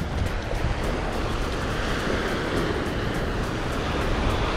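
Ocean surf washes steadily onto a beach at Long Beach, a continuous broad roar of breaking water with wind noise, close and fairly loud throughout.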